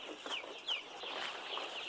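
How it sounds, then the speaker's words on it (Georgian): Ross broiler chickens on a poultry farm cluck in short, overlapping calls, fairly close and moderately loud, over a brief stretch with no talking. "ქათამი არის, ჩემო კარგებო, ეს არის ბროილერის ჯიში არის, როსი არის"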